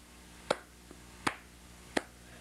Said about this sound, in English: clapping their hands in unison in rhythm